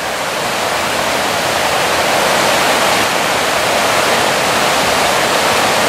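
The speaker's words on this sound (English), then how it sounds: "I'd say this is where our creek comes out, where I saw the falls earlier." Steady, loud rush of a creek spilling near a waterfall along the Pictured Rocks shoreline of Lake Superior, a constant broadband roar with no breaks and no voices.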